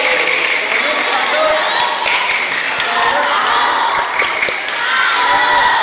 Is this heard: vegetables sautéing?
no